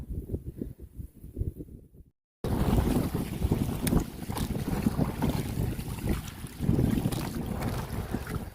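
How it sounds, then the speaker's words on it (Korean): Waves slap against a fishing boat out on the water during bass fishing, with heavy wind buffeting the microphone; a brief dropout near the start, then continuous rough splashing and gusting. "우와 파도 친다."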